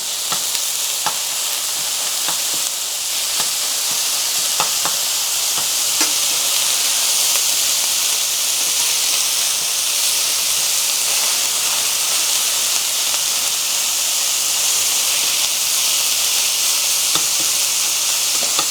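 Minced pork browning in a hot pan for a meat sauce gives a steady, loud sizzle and hiss that carries on unbroken, with a few faint clicks of stirring.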